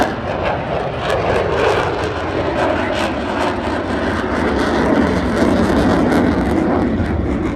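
A Spitfire flying at an airshow, a loud continuous engine roar that holds steady throughout, with crowd and wind noise blended in.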